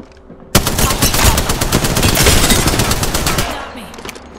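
Loud, close automatic gunfire in the shooter Apex Legends, a rapid sustained burst of dense shots that starts abruptly and runs for about three seconds before tailing off.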